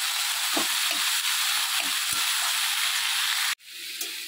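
Potatoes and long beans frying in a pan give a steady, close sizzle and hiss with faint stirring knocks, broken by a sudden cut and a quieter stretch of sizzling at the end.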